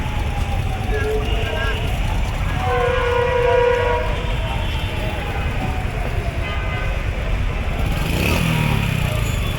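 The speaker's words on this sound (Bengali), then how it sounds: "ঢাকা বিমানবন্দর রেল স্টেশন।" A train passing through Dhaka Airport railway station, its horn sounding as a steady low rumble of rolling wagons carries on throughout, loud and close, with voices and general station noise mixed in.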